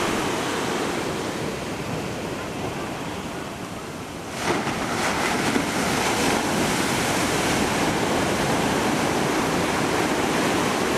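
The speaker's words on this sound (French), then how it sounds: "nous visitons la plage de Ipanema, qui est seulement séparée par un rocher et un fort de la plage de Copacabana" Surf rolling onto Ipanema beach in Rio de Janeiro: a steady, loud wash of breaking waves with a fresh surge about midway, no voices, with some wind noise on the microphone.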